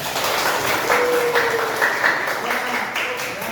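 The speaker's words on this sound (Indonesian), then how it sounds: "Tepuk tangan dulu dong." Students in an Arabic-language class clap their hands together in a dense, steady patter that runs the whole time, with voices talking over the clapping.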